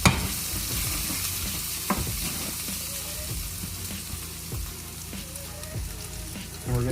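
A stick of butter melts and sizzles in a hot pan with meat on a stovetop that has been switched off, giving a steady crackle with occasional soft clinks and stirring scrapes.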